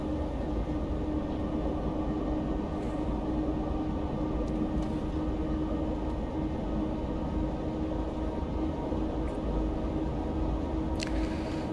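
A train in Train Sim World runs on an Austrian line near Nenzing, heading downhill. It is a steady, loud rumble of wheels and motor with occasional faint squeaks and clicks.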